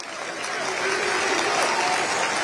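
Fenerbahçe congress members applaud at the club's congress, a dense, steady wash of clapping from a large crowd that swells slightly and holds throughout.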